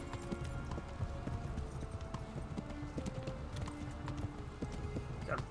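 Horse hooves clip-clop steadily and rhythmically in Kingdom Come: Deliverance, a newly bought mount trotting at an even pace with close, continuous beats over a low game background.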